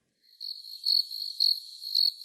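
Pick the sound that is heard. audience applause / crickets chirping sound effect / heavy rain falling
crickets chirping sound effect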